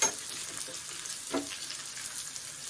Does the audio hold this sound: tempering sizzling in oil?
yes